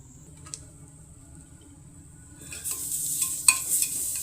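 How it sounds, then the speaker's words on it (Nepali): Ginger-garlic paste is being fried and stirred in a pan on low heat for a buff sukuti dry-meat dish. A quiet start gives way to a brighter sizzle with stirring scrapes and a few clinks, and no one speaks. "यो मसला चाहिँ अलिकति आगो चाहिँ सानो पारेर भुट्ने है।"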